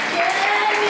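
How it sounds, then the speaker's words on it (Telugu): A church congregation applauding loudly, a dense, sustained burst of many hands clapping together for about a second. "గట్టిగా చప్పట్లు కొట్టి స్తోత్రం చెప్తారా?"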